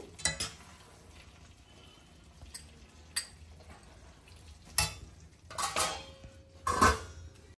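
Green chilli and coriander chicken curry ladled from a pot into a cup, scattered metallic scrapes and clinks of a spoon against the vessel, close, with quiet gaps between the bursts.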